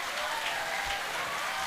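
Audience at a school event in Jhalawar applauding, a dense, steady burst of many hands clapping at once, fairly close and even throughout, with a voice faintly in the mix.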